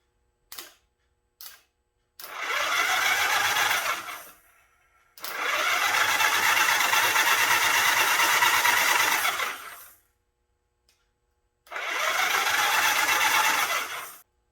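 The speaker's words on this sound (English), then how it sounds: "that the clutch is back in it, turn this thing over" A Honda Goldwing motorcycle, its battery cables newly wired to the starter after a clutch replacement, cranks over with the starter in three long loud whirring bursts, each several seconds long, with brief clicks before them and no speech.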